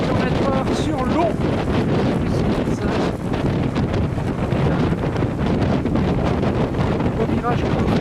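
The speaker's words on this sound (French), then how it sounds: "mais il y a du vent. Le vent c'est froid" Strong, cold wind buffets the microphone continuously, a loud rumbling roar over the sound of an old boat moving fast on water at 35-40 km/h.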